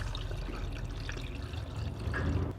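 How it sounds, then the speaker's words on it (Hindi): Water poured from a large glass into a cooking pot while making dum pukht, a steady soft trickling splash lasting a couple of seconds, close and fairly quiet with no talk. "तो ये पानी का ये जो बड़ा वाला ग्लास है, ये पानी हम डालेंगे।"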